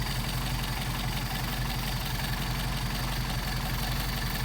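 Mercedes 190SL engine with Solex carburetors idling steadily, a continuous even rumble with a fine mechanical knock, close and moderately loud throughout.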